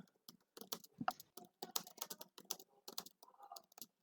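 Rapid, uneven keystrokes on a computer keyboard, close and fairly quiet, clattering in short bursts with brief pauses between them while someone types during a TFT coaching session.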